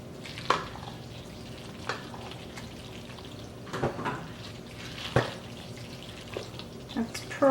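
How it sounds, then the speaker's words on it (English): Drained pasta being mixed into a spicy sauce in a pan for American chop suey: soft, wet stirring, quiet overall, with a few louder knocks of the utensil on the pan. "So now I'll add the noodles to my sauce. Just mix it around."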